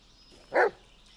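A dog gives a single short bark in the Blair Witch video game, moderately loud and clear against quiet background ambience.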